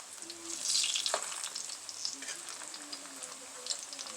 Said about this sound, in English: now I'm turning over those plantains because now it's turning that golden brown color